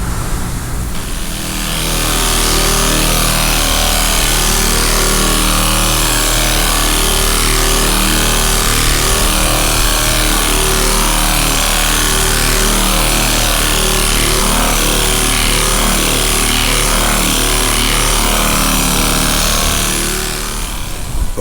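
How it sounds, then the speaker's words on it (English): Hudson straight line sander with 80 grit sanding body filler on a 1978 Chevy Impala Aerocoupe, a loud continuous buzzing drone that holds steady for about twenty seconds before winding down. "we're gonna use this Hudson straight sander or straight line sander with some 80 grit on it"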